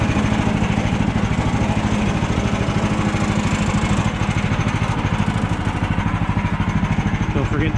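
Woodland Mills portable sawmill running while cutting 1-inch boards for lap siding, a loud continuous engine drone with rapid pulsing throb, close and steady throughout.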